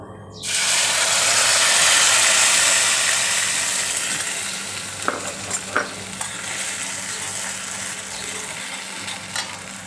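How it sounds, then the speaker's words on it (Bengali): A ground paste of ginger, garlic, onion, tomato and cumin powder hits hot oil for a raw banana kofta curry, bursting into loud, steady sizzling with occasional spoon clinks as it is stirred. "মশলা এবার আমি কষাতে থাকবো"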